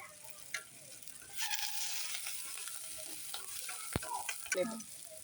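Curry leaves sizzle in hot oil for a prawn gravy, a steady crackling fry with a few sharper pops and brief stirring scrapes, close and moderately loud with no talking.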